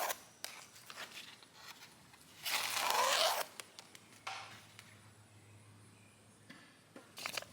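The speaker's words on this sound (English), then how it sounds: "I'm just going to strip away the veins on the outside of the curve" A feather's vane is stripped from the quill for arrow fletching, a brief rasping rip of about a second, close and fairly loud, set among faint taps and handling noises in a quiet room.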